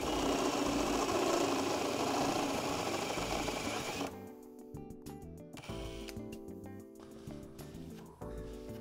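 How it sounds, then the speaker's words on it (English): A drill bit enlarging a hole to 8 millimetres drones loudly and steadily at first, then drops to a quieter, humming machine tone with intermittent knocks and clicks, close by. "We are going to enlarge the hole to make it 8 millimeters, 5/16 of an inch."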